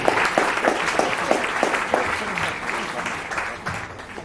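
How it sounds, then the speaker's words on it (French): An audience at a conference on school bullying applauds with dense, steady clapping and a few sharper individual claps standing out near the start, tapering slightly toward the end. "Merci pour les applaudissements qui t'étaient destinés"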